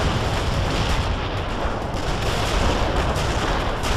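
Artillery barrage in the strategy game World in Conflict, heard as dense, continuous, heavy rumbling blasts that blur into one loud, sustained roar with no pauses.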